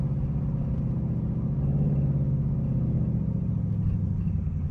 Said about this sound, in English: Listen to the idle.